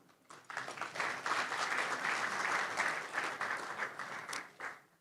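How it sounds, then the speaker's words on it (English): Conference audience applause swelling up quickly into a full, sustained round of clapping from a large room, then tapering off near the end. "Please give us a round of applause."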